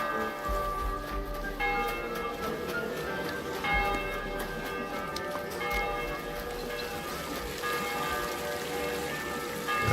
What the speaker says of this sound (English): That's the midday bell.